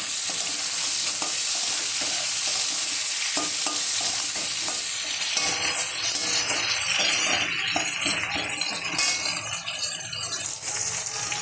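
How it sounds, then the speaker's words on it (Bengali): Thick-cut onions and 5-6 slit green chillies frying in a pan, a loud, continuous close sizzle with regular spatula stirring and scraping throughout. "পেঁয়াজ দিয়ে দিলাম, 5-6টা কাঁচা লঙ্কা"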